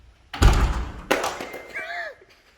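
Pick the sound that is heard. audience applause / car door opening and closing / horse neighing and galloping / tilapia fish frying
car door opening and closing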